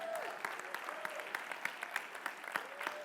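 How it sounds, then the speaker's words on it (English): A congregation at a church service claps in a round of applause, a faint, distant wash of many hands with scattered sharper claps, a soft tone drifting underneath. "You can give her a round of applause"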